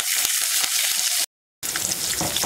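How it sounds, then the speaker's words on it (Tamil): Shallots, garlic and curry leaves frying in oil for a taro root kara kuzhambu, a loud close sizzle that cuts out briefly and then resumes with a rougher crackle; no speech. "சின்ன வெங்காயம் ஒரு 20 இது உரிச்சு வச்சிருக்கேன், அதுவும் போட்டுக்கலாம். பூண்டு, கருவேப்பிலை 3ஐயும் போட்டுக்கலாம்."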